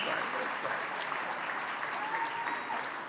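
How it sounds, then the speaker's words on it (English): A gala audience claps for Congressman Brad Sherman, a steady, fairly distant round of applause that holds evenly throughout with no voices standing out. "Please join me in welcoming Brad and giving him a huge round of applause"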